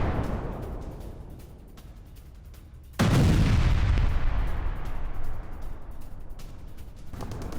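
Artillery fire in the Ukraine war booms once with a heavy, low blast that rolls on and slowly fades beneath steady wind-like background noise.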